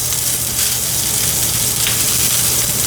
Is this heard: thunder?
no